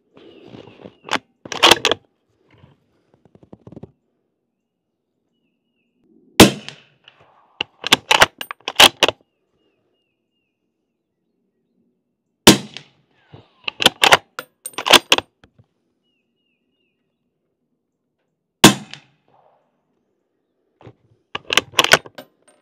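Suppressed rifle shots from a KGM rifle fitted with a K can suppressor on a 50-yard range, about five sharp, isolated cracks spaced several seconds apart, each trailed by brief clicks of working the action, with silence between.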